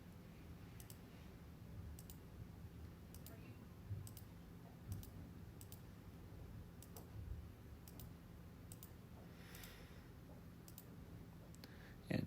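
Keys of a calculator pressed one after another in a sparse, uneven run of small clicks, close and faint, entering numbers for graphing a rational function, with a low hum underneath.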